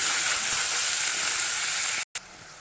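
Chopped onion and tomato sauté in a hot pan for a cauliflower gravy, giving a steady, close, even sizzling hiss that cuts out briefly near the end.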